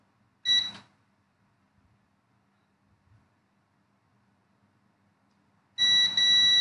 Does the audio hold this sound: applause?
no